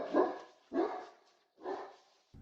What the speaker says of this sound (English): that bark is an emergency bark, or there's actually something there bark